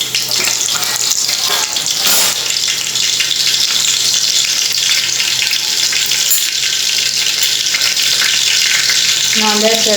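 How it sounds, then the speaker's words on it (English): Cumin seeds sizzle in four tablespoons of hot oil in a pan, a loud, steady, close crackling hiss that runs throughout with no one talking. "in a pan, let's add 4 tablespoons of oil. Let's add the jeera."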